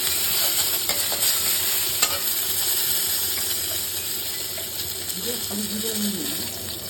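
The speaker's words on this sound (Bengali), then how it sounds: "এটা একটু ভেজে নেব। আমি 3টা তেজপাতা ছিঁড়ে দিলাম।" Three torn bay leaves and a few dried red chillies fry in hot oil for a Bengali moong dal with hilsa fish head, giving a steady close sizzle with light stirring scrapes and a brief clink, no talk.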